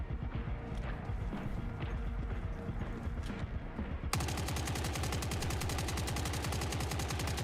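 A gun in the video game Forever Winter fires rapid automatic bursts until the magazine is empty. A few seconds of busy background noise come first, then a loud, sustained stream of closely spaced shots.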